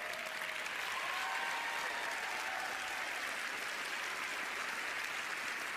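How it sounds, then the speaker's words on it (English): Studio audience applause at a magic show taping, an even wash of many hands clapping, steady and moderately distant throughout. "Give these guys a round of applause as they make their way up"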